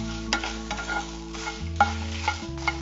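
Dry red chillies of the plump gundu variety being stirred and roasted in a dry pan for sambar powder, with repeated scraping strokes and soft rattling, steady and close, no talking.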